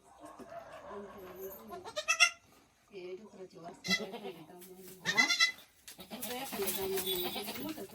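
A newborn young goat bleats several times in short, wavering cries, with a voice talking softly between the calls.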